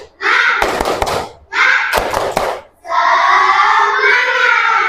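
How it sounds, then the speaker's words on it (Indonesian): Classroom of students doing a rhythmic spirit clap during a micro teaching lesson, three loud bursts of crisp group clapping between stretches of chanting voices. "Tepuk semangat."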